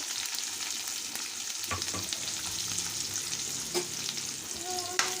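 Onion, crushed garlic, green and dried red chillies and tempering spices fry in a pan with a soft, continuous sizzle, broken by a few light clinks and scrapes of stirring.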